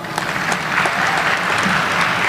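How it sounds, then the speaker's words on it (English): A commencement audience gives a loud, dense round of applause for graduating business and education students, steady clapping throughout with no speech over it. "Can we give them a round of applause anyway?"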